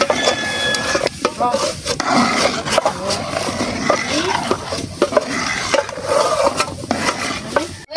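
Cornstarch-coated chicken fries in a pan with a dense, continuous sizzle, punctuated by utensil stirring and clinks of cookware, while people talk over it.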